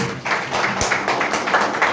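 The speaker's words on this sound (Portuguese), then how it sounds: "aplauda o nome do Senhor Jesus" A church congregation applauds together in a steady, dense burst of clapping that fills the room, close and loud with no talk over it.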